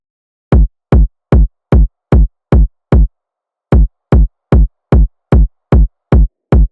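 A four-on-the-floor kick drum pattern: punchy, booming electronic kicks hit in an even steady pulse, pause briefly, then resume, loud and dry with nothing else around them.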